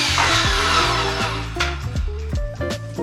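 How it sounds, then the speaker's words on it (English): A circular saw ripping a straight edge along a board clamped to a workbench against a guide board: a loud, continuous motor whine whose pitch repeatedly dips and recovers as the blade takes the load. "we can easily rip a clean edge with a circular saw"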